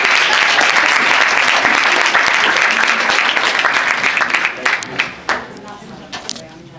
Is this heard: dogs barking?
no